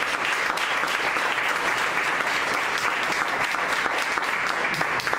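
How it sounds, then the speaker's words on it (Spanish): A church congregation applauds, a dense sustained round of clapping from many hands that fills the room evenly and steadily from start to finish. "Den una ofrenda de palmas a él."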